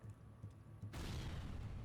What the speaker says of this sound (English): Jurian falls back to evade the explosion